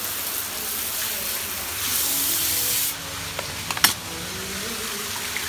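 Water sprays with a steady hiss for a few seconds at a hot spring bathhouse in Taiwan, then cuts off, followed by a few faint knocks and splashes.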